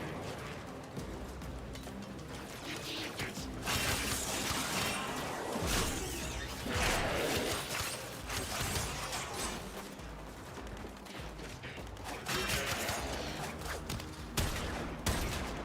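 Turrets fire in Warframe, a loud, dense stream of rapid shots and crashing impacts. Bursts surge and ease over the whole stretch with no pause.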